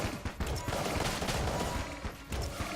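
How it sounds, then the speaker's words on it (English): Steady gunfire from the Polaris gun in Enter the Gungeon, a fast, dense stream of shots with a few brief breaks and heavy low thumps running underneath. "I'm just gonna stay here and shoot"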